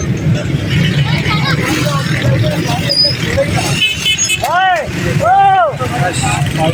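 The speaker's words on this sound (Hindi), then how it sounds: "रश आप देख सकते हैं मेरे पीछे कितना ज़्यादा रश है" A crowded street on the night before Eid sits in a traffic jam, with dense crowd babble and engine rumble. Two vehicle horns honk near the end, under nearby talk.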